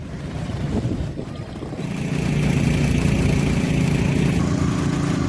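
Municipal service vehicles draining water from the Bundaran Air Mancur fountain in Palembang during renovation, with a steady engine drone that grows louder and more constant after a brief, quieter start.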